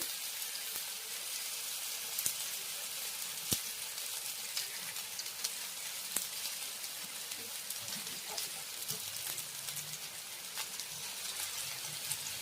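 Salmon pieces frying in oil over a low flame for an Indian-style fish fry, giving a steady soft sizzle and crackle with scattered small pops throughout and no voices.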